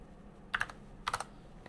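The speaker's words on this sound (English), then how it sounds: "and then I will type" A command being typed on a MacBook keyboard: two short, quiet bursts of a few key clicks each, heard alone and up close in a quiet room.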